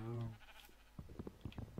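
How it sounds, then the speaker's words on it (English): Short, close sheep bleat from a Minecraft sheep in a Polycraft UHC game, a single wavering call followed by faint thuds and soft game sounds. "Hi, sheep. Hi, cow."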